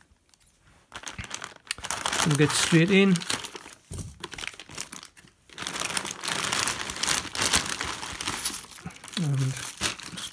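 Scissors snip and crinkle through a sealed plastic bag of £2 coins, loud rustling and crackling bursts close to the microphone, with someone talking between the cuts.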